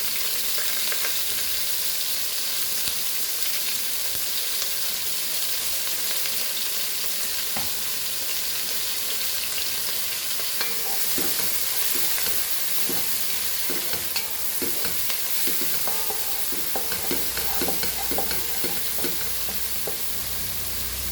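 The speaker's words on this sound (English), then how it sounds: "we'll add our onion and fry it nicely" Onion sizzles steadily in hot oil with cumin seeds in a pan for Goan brinjal masala, a continuous frying hiss broken by scraping stirring clacks from the middle onward.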